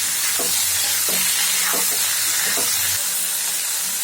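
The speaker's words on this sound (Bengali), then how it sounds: "লাউটাকে বেশ একটু তেলের মধ্যে নাড়াচাড়া করে নিলাম" Chopped bottle gourd stirred in hot oil in a pan, giving a constant loud sizzle and hiss with a few soft scraping strokes of the spoon, no voices.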